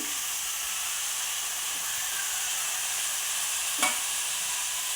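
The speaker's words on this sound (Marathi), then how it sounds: "याला चांगलं मिक्स करून घेऊया परतून घेऊया" Fenugreek greens sizzle and hiss steadily in a hot pan, with a brief scrape of stirring partway through; no voices.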